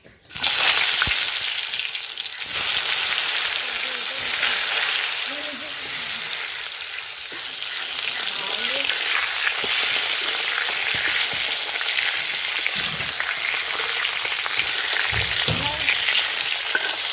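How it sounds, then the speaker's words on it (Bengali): Pointed gourd slices coated in turmeric and salt drop into hot oil, and a loud, continuous sizzle follows at once and keeps going close by with light crackling and stirring. "তেল গরম হয়ে গেছে, হলুদ লবণ মাখানো পটল দিয়ে দেব"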